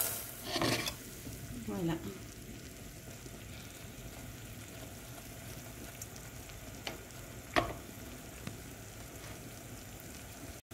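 Honey pastries (rghifat) frying in well-heated sunflower oil give a steady, close sizzle throughout, with a few brief clinks and stirring sounds early on and a short spoken word near the end.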